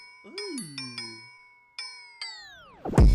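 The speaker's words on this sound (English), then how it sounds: "That's the dinner bell." A bright dinner bell rings out in a series of clear metallic dings with long fading tones: four quick strikes, then two more after a pause, with a wavering tone at the start and a heavy thump at the end.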